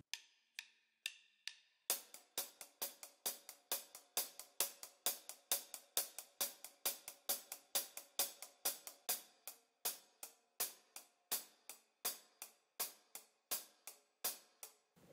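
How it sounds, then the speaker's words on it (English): Hi-hat playing a fast intro pattern on a drum kit: a few spaced strikes, then a rapid, even stream of crisp metallic ticks, soft and close, with no talk. "intro parts on the hi-hat sounds like this"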